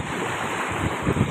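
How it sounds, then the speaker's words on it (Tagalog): Sea waves wash onto the seashore in a steady, loud roar mixed with heavy wind buffeting the microphone, a short continuous surge with no voices. "Tayo sa tabing dagat."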